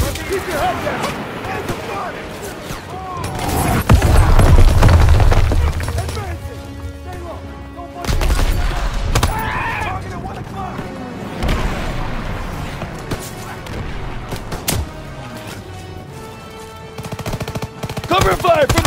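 Rapid machine-gun and rifle fire in Call of Duty WW2, a battle at Marigny, France in 1944, crackling in loud bursts and sputtering volleys throughout, with shouted soldier callouts mixed in.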